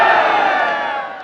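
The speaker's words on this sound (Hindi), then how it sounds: "जरा पीछे तक हाथ उठा के तालियों की गूंज में बताइए कितना प्यार करते हैं इमरान खान से।" A large crowd at a political rally in Mianwali for Imran Khan lets out a loud, sustained roar of cheering and shouting that tapers slightly toward the end.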